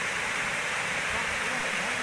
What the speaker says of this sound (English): The inexplicable factors of this Kuntala waterfall.